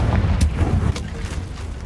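A Confringo blast spell bursting in Hogwarts Legacy, a short loud explosive boom with rumbling low end and a quick crack, fading into a dull rumble.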